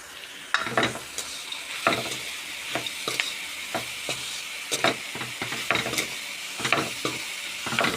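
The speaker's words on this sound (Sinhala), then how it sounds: "ගෝවා ටිකයි මික්ස් කරමු. හොඳට තෙලේ බැද ගන්න ඕනේ මේ ටික ඔක්කොම." Carrot and cabbage stir-fry in oil for kottu, giving a steady sizzle. Metal utensils scrape and clack against the pan at irregular intervals throughout.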